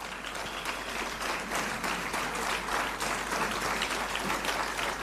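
Steady, dense applause from a seminar audience at a BRICS technical and vocational education forum, greeting the Chinese delegation; many hands clapping at even loudness throughout with no pauses.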